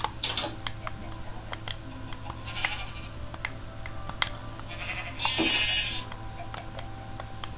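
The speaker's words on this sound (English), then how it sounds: "This is the sheep." Sheep in the Minecraft video game bleat a few times over several seconds, with rain and light ticking clicks running throughout.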